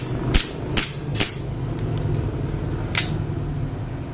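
Airsoft Glock 17 pistol test-fired, giving a few sharp, close cracks spaced irregularly, about three in quick succession and then one more, over a steady low mechanical hum.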